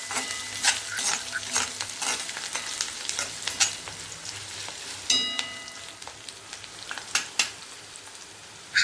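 Baby potatoes frying in an open pan toward golden brown, with a steady close sizzle and spatter broken by repeated clinks and scrapes of a spoon stirring them.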